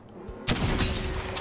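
Burst of rapid gunfire in the Apex Legends video game, a sudden loud volley of overlapping shots that begins partway in and rattles on continuously to the end.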